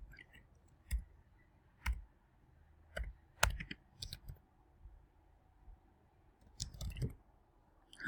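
Sharp, isolated computer mouse clicks in a quiet room, roughly one every second, some in quick pairs, with no speech.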